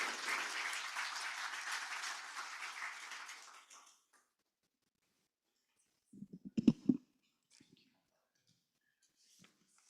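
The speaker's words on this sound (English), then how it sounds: "Can we please give a round of applause as all our panelists make their way forward?" Audience applause for panelists at a legal and political discussion, a steady burst of clapping for about four seconds that then stops, followed by quiet and brief faint voices and clicks.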